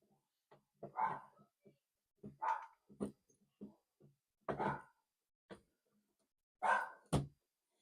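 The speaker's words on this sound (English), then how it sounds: "Oh, dogs are going crazy." Several dogs bark in short, loud bursts spread across the clip, with pauses between volleys and no talk over them.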